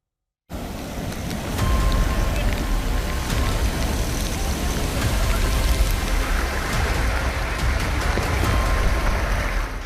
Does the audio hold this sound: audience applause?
no